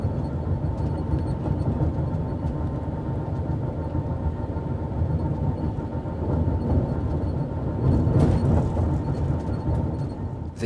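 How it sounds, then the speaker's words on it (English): A TGV Réseau high-speed train, set 511, running on the Strasbourg to Paris line, heard from the cab as a steady, loud rumble and rushing hum that swells slightly toward the end. "Our train is formed of a TGV réseau, or regional, set number 511, one of 33 allocated to the East European service"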